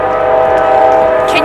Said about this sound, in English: Can you hear the sound of the train?